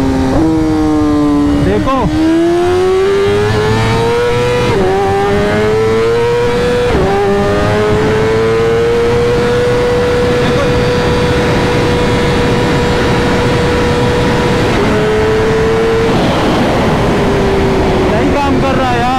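BMW S1000RR and Honda CBR1000RR superbikes accelerate in a drag race, one quickshifter failing to engage third gear: a loud, sustained engine whine rising through several gear changes, with someone talking over it.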